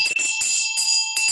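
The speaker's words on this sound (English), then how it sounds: "I'm ringing this bell because we're doing a roll call" A hand bell rings in quick repeated clangs, a bright sustained metallic tone pulsing in bursts, fairly close and with no talk over it.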